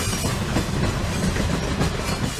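Train passing near a public park in Columbus, Ohio, a loud, close rumble with a steady rhythmic clickety-clack of wheels over rail joints.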